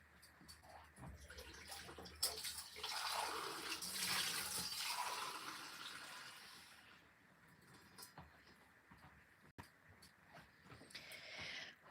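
Clean water being drawn for watercolour painting, a faint running tap stream rising over the first seconds and then fading, followed by quieter handling sounds and small knocks.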